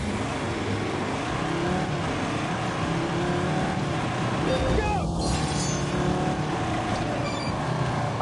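A 3.2-litre five-cylinder pickup truck engine roars steadily while racing off-road through Wales in a driving video game, continuous and loud throughout, with a brief shouted voice over it.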